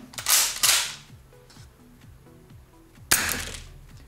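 Two quick three-shot bursts of sharp, snappy pops from an S&T ST870G S airsoft gas gun firing 0.2-gram BBs, each burst a tight cluster of shots, separated by a pause with mechanical clicks.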